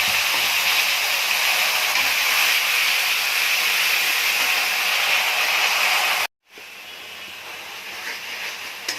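Coriander leaf spice paste for a green fish curry fries in hot oil with a loud, continuous hiss that cuts off abruptly, then resumes as a softer, steady sizzle.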